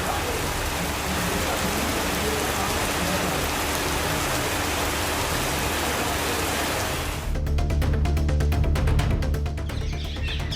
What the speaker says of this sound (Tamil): பல்வேறு பகுதிகளில் மிதமான மழை பெய்ததால் வெப்பம் தணிந்து குளுமையான சூழல் நிலவியது